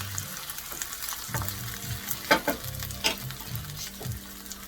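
Golden-brown onion sautéing in a pan, a steady close sizzle with soft stirring scrapes and a few louder spatula knocks near the middle, no talk.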